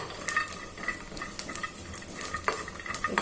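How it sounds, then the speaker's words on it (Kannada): Garlic, green chili and peanuts fry in a pan while being stirred, a constant crackling sizzle punctuated by frequent metallic scrapes and taps of the spoon, close and fairly loud. "ಇದು ಸ್ವಲ್ಪ ಫ್ರೈ ಆಗಬೇಕು."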